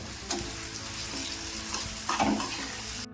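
Chopped tomatoes go into softened onions frying in a pan, a steady close sizzle and crackle with a few brief stirring surges, fairly quiet overall and free of talk.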